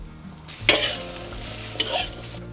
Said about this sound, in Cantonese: 好啦，炒到佢咧啲邊咧有啲黃黃地咧